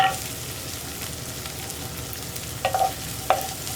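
Dried red chillies and curry leaves sauté in a pan for spinach and egg thoran, a low, steady frying hiss joined near the end by two short scraping stirs.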